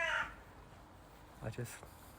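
Crows or similar birds call outdoors on a misty morning: a loud harsh caw opens, then a few fainter, distant calls follow.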